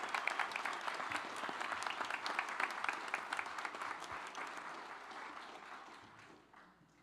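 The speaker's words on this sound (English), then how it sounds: "Isn't it awesome to get to applaud in the sanctuary?" Audience applause fills a temple sanctuary after a benefit concert of Jewish songs, a dense, steady round of clapping that holds for several seconds and then tapers off toward the end.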